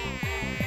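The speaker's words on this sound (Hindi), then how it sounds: "वो भूत जो बेला बन गया था, अब मक्खी बन गया है।" A housefly buzzes close by in a cartoon scene, a steady whining drone with two swells as it passes near, with no voices over it.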